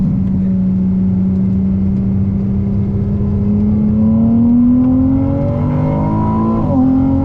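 An 830 hp Ferrari 296 GTB accelerates hard on a race track, its engine note climbing steadily in pitch as it pulls through the revs, loud and close, with a brief dip and recovery near the end.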